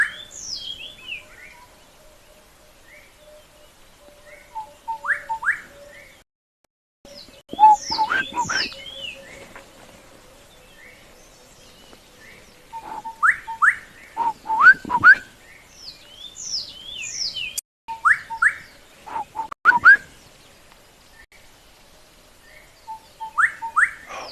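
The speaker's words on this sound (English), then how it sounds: "It's a gorgeous bush shrike right here." A bush shrike calls close by on a live safari, giving repeated bursts of clear whistled and chirping phrases separated by short quiet gaps, alone against a faint background.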